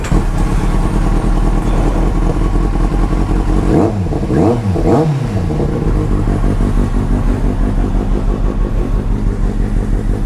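A motorcycle engine revs loudly up close as the rider heads out, with a steady throbbing idle broken by three quick throttle blips in the middle before settling back to a rumbling idle.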